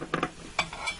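Steak flipped in a Range Mate pan, giving a few quick metallic clinks and scrapes of a utensil against the pan, faint and close, with no talking.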